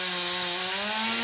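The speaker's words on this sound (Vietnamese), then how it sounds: "chú bắt đầu cưa ngoài kia cho rớt xuống nè" A chainsaw cuts limbs from a large, tall dáng hương tree, its engine holding a steady, loud droning whine that rises slightly in pitch toward the end, heard alone without voices.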